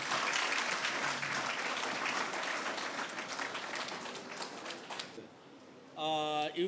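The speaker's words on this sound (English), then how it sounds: "May we have a round of applause for him?" An audience applauds steadily for about five seconds, the clapping then thinning out before a voice begins speaking near the end.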